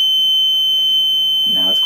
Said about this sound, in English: So I've set it up so that the knob is controlling the power going to the buzzer.